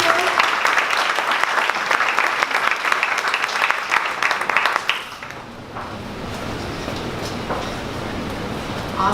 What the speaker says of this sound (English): one more round of applause for Productable